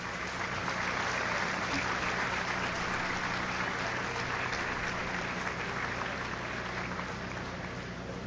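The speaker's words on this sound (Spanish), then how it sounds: "un fuerte aplauso para ese equipo que ha trabajado durante todo este tiempo" Sustained, dense applause from a large crowd in the National Assembly chamber, steady and even throughout with no pauses or voices standing out.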